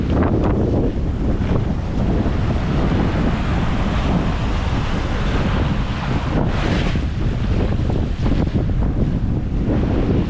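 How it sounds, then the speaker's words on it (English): Strong wind roars and buffets the microphone while waves surge and wash against a sailboat at sea in near-gale conditions on the North Atlantic, a loud, continuous rush with no voices. "I'm in near gale conditions right now."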